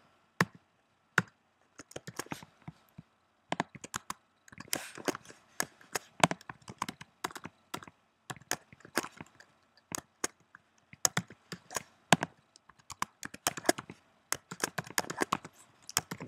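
A computer keyboard is typed on close by in quick irregular bursts of crisp clicks with brief pauses, alone with no talk.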